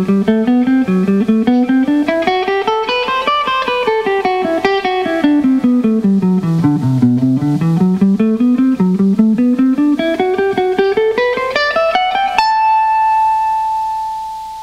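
A guitar plays a slow Dorian mode exercise, a continuous run of picked notes climbing and falling in waves over several octaves, ending on a single held note, close and clear with no voices.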